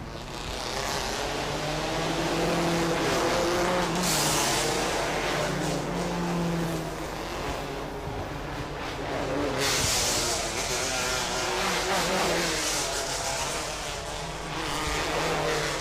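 Race cars roll round on their formation lap at the Bangsaen Grand Prix, a Thailand Super Series street race, with a steady engine drone and hiss that swells and fades, while a commentator talks over it.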